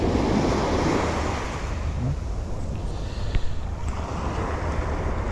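Sea waves rush and roar steadily around a fishing boat out on open water, with wind buffeting the microphone and a constant low rumble. No one speaks.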